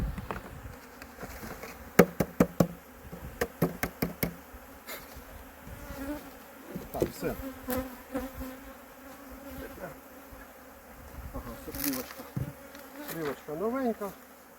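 Honey bees drone and hum around an open 10-frame beehive at the end of the beekeeping season. The buzzing is close and continuous, broken by sharp taps and clicks of frames and equipment being handled.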